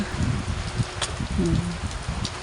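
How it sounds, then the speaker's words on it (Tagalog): Steady patter of rain falling on a surface nearby, a soft continuous hiss with scattered drops. "umuulan pa lang ngayon. Naririnig niyo ba yung patak ng ulan?"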